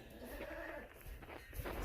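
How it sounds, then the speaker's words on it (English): Goats bleat repeatedly after being brought indoors ahead of a winter storm. The wavering calls sound close and come in quick succession, with no talking. "I decided to bring the goats in"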